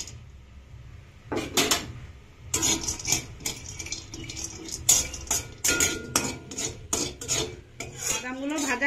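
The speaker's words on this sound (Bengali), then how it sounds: "কাজু বাদামগুলো হালকা করে ভেজে নেব।" Cashew nuts being lightly fried in a pan give a run of sharp scraping and clattering strokes from a utensil against the metal, irregular and close, with a faint sizzle underneath and no speech.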